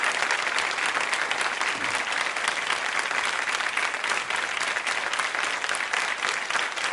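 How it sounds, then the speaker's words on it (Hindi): Loud, sustained audience applause fills a women's vocational training institute quiz show, an even, dense roar of clapping with no break and no voices heard. "तालियां जोरों से बजाइए इस संकल्प के लिए कि आप बेहतर प्रशिक्षण प्राप्त करेंगे"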